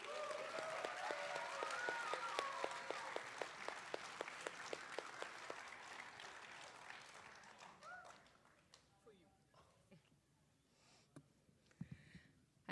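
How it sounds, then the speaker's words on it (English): An Arangetram audience applauds the dance team, dense clapping that gradually thins into sparse claps with talk and movement in the background, fairly distant. "let's give this terrific team another big round of applause."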